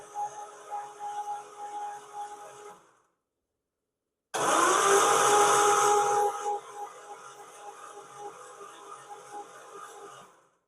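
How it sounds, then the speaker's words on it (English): A 1969 Triumph Vitesse engine turns over on the starter with a steady mechanical whirr that pauses briefly. It then returns with a louder, fuller cranking burst before settling back to a lighter continuous spin. "we'll give it a good whiz over, see if we can get some oil pressure up"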